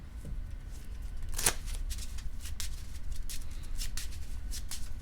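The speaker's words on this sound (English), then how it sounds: "And I'll shuffle and redraw." A deck of cards for the tabletop game Keyforge is shuffled up close, with repeated crisp riffling bursts and card snaps over several seconds, heard alone without talk.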